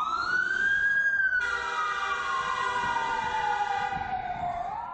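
An emergency siren wails loudly and continuously, its tone sweeping slowly downward, with a second siren layering in partway through over traffic noise, as ambulances and police head to an explosion site in Taksim, central Istanbul.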